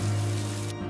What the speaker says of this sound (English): the water's starting to leak in.